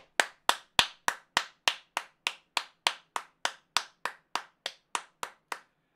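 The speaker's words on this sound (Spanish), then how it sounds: "Un aplauso para Lee, por favor." Single person clapping for Lee, the former owner, inside a house: about nineteen sharp, evenly spaced claps, close and clear with nothing else behind them.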